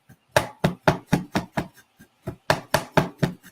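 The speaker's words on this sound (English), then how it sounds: "So this is turmeric, and this little knife, you can take a smaller knife." A small knife chops fresh turmeric root on a cutting board in quick, crisp strokes, about a dozen close knocks in two bursts with a brief pause between.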